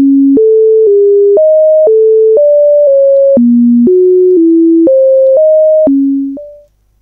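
A pure electronic test tone, played back from a large buffer at fractional speed, steps through a sequence of steady pitches in an even rhythm, loud and clean, then fades out at the end.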